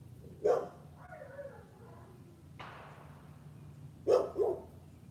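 A dog barks a few times, once early and then a quick double bark later, with quieter noises in between.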